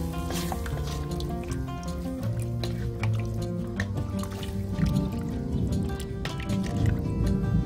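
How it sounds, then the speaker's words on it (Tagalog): Beef stock poured into a pot of ox tripe soup with rock salt and lemongrass, a continuous liquid splashing and gurgling with dripping bursts, fairly close and steady throughout. "saka yung ating beef stock, lalagyan na po natin"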